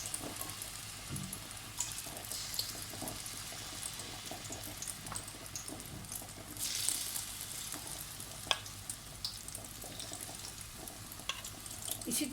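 Rice pakoras frying in hot oil over a low flame, a steady soft sizzle running throughout with a brief louder hiss midway, no talking.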